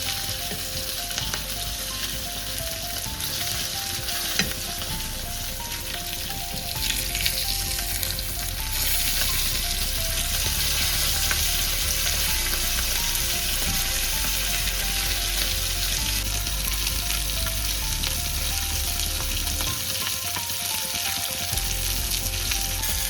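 Stuffed pomfret fish frying in a pan, a constant close sizzle and crackle of hot oil that runs the whole time, with a faint steady tonal hum underneath.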